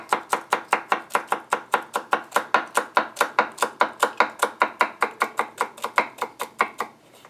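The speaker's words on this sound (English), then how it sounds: "And the way I cut this celery, if you have the stalk like that, I cut it down the middle" A knife chops through a celery stalk on a cutting board, roughly thirty sharp, evenly spaced crunchy strokes in a fast steady rhythm, close and loud with no speech.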